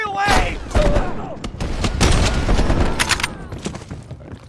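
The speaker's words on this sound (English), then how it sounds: "Please, they're shooting at us." Gunfire in Call of Duty Cold War, with rapid bursts of loud shots and sharp cracks packed close together, while voices shout in between.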